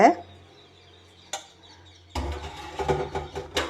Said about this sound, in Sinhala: රොලන් ටික දාලා මේක මෙහෙම බදින්න ඕනේ